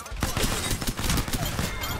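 Rapid automatic gunfire from an Apex Legends match rattles in dense, loud bursts, near and sustained, with a player talking over it.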